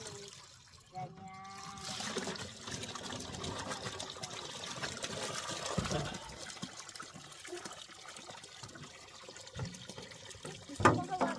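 Spring water wells up and bubbles from a lake bed in a soft, continuous trickling gurgle that swells and fades, with people talking faintly over it outdoors.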